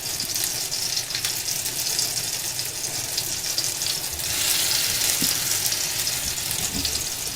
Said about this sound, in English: So we are going to turn this all to balls and then start searing them.